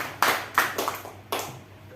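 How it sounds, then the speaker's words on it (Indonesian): Audience clapping for Ibu Helmi at a school positive-culture dissemination session, a few sparse claps in an uneven rhythm, moderately loud in a quiet room. "kita tepuk tangan dulu untuk Ibu Helmi"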